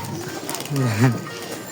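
A pigeon gives a single rolling coo, close and fairly loud, amid faint background noise where pigeons are being released and fed.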